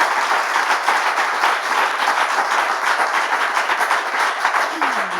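An audience in a TV studio claps loudly and steadily, a dense continuous wash of applause with no talk.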